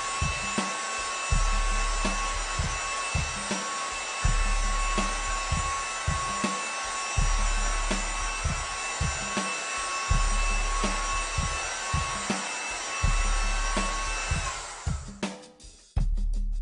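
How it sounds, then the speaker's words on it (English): A heat gun blows a steady, loud hiss of hot air while it is worked around the edge of an iPad, then cuts off abruptly near the end. "Start with the heat gun on the left side and work your way around."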